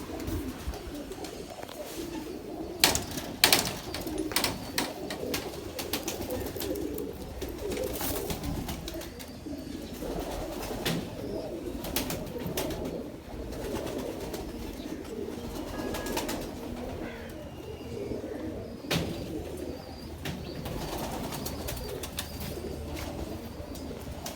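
Pigeons coo steadily in low, murmuring bursts over a busy background of rustling and occasional flapping, close by and continuous.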